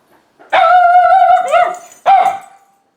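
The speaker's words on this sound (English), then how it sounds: "That's my dog barking." A dog nearby lets out a long, drawn-out howling bark, then a second shorter one, loud and clear with nothing else behind it.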